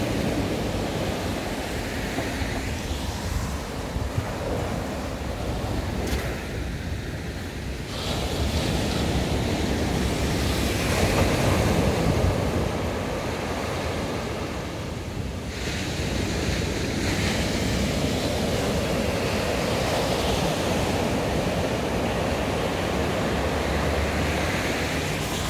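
Ocean surf at Balneário Camboriú beach on a chilly day, waves washing steadily up the sand in a broad continuous roar with swells and dips, wind buffeting the microphone throughout, no voices.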